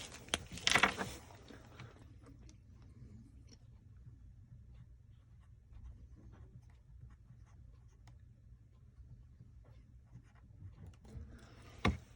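A marker writing on a small box that holds press dies, a short close burst of scratchy strokes at the start, then a long faint stretch and another brief stroke at the end.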